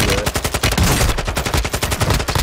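Rapid bursts of automatic gunfire crackle through a video game shootout, a dense run of sharp shots that fire almost without pause for a few seconds.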